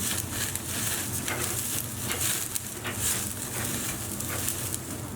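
Chicken seekh kebab skewers cooking over an open fire grill give off a steady, close sizzle and crackle with a faint high hiss, continuous and even throughout with no talking.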